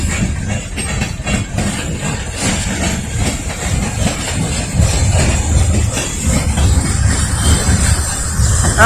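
An Amtrak Northeast Regional train rumbles steadily through Lynchburg with a broad low roar and faint clatter, growing louder toward the end as it picks up speed.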